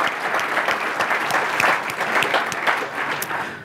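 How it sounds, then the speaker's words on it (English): Steady applause from a conference audience, dense clapping filling the room at an even level throughout, with no talk over it. "please, a round of applause"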